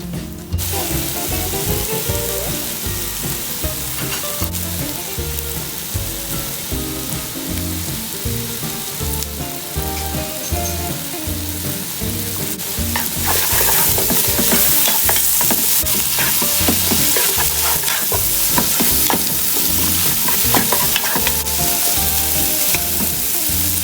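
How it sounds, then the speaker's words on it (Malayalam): Onions, curry leaves and green chillies fry and get stirred in a pan for a Kerala-style dish, a steady close sizzle with spatula scrapes, growing louder and denser partway through, with no talking. "ഇതിലേക്ക് നമുക്ക് പച്ച കറിവേപ്പില, പച്ചമുളകും കൂടെ ഒന്നിട്ട് നല്ലതായിട്ടൊന്ന്"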